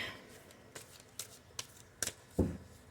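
Archangel Power tarot cards being shuffled by hand, a handful of crisp riffling snaps spaced irregularly across a few seconds, close and fairly quiet, ending on a heavier thump of the deck.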